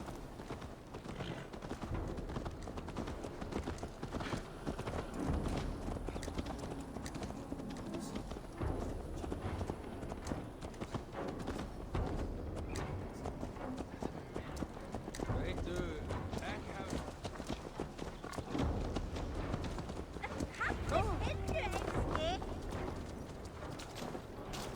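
Horse hooves clip-clop at a walk through Assassin's Creed Valhalla gameplay, a steady rhythmic patter mixed under game ambience and character dialogue throughout.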